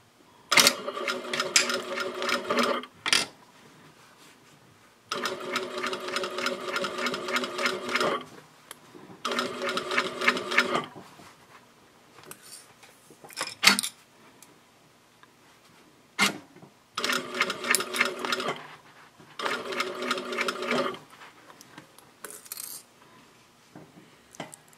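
A sewing machine runs a 1/4 inch seam at a 3.0 stitch length with back stitching at both ends, sounding as steady, close bursts of rapid stitching separated by quiet pauses and small handling clicks.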